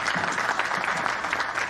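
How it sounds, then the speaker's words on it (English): Sustained audience applause for the chief guest, an ambassador, at a Vishwa Sadbhavana event: dense, even clapping from a crowd that fills the whole moment without a break, with no voices over it. "please continue giving a round of applause to our chief guest, Ambassador Karanjit Singh Sandhu"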